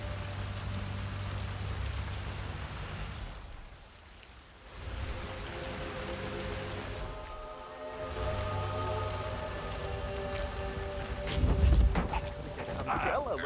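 Rain falls steadily in the Hitman 3 video game, a soft continuous patter on surfaces with a low rumble underneath, briefly dipping twice before resuming, at moderate level.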